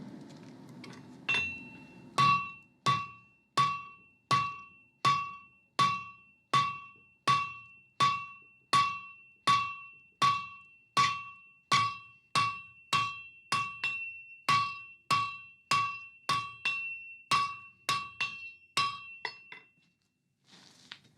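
A blacksmith hammers a hot steel bar on an anvil while forging a coal rake, giving a long, steady series of about two dozen ringing metallic strikes, close and evenly spaced, with no talk.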